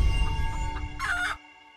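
A burst of chicken clucking from the video game Henwards Legacy rises briefly over a steady low background hum and game music, then cuts off, leaving a faint tonal drone.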